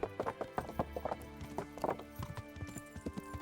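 Horse hooves clip-clop in an uneven, lively rhythm in a video game, fairly close and clear, with a brief whinny-like sound among the steps.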